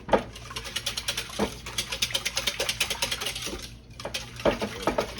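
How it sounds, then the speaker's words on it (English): French toast batter whisked in a bowl, a rapid, rhythmic clinking and scraping of the whisk against the bowl, close and steady with brief pauses. "Give it a whisk here."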